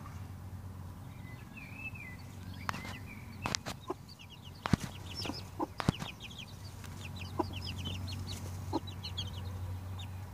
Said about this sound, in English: Chickens being naughty,